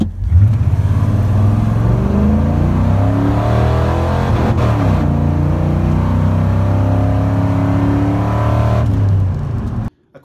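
A truck with an EFI 302 V8, bumped timing and 4.10 gears, accelerates hard in a 0-60 run, its engine rising in pitch through the gears with a brief shift break midway, loud and close before cutting off.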